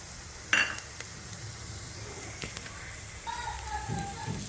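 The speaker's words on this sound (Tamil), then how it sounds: "இஞ்சி பூண்டு நல்லா கிண்டி விட்டுக்கோங்க" Ginger and garlic are stirred into fried onions in a pan, giving a faint sizzle with a sharp metal clink from the spoon early on and soft scraping stirs and light frying crackle later.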